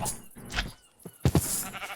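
Bleating sheep in a Minecraft farm scene give several short, nasal cries in quick succession, close and fairly quiet, with no voices over them.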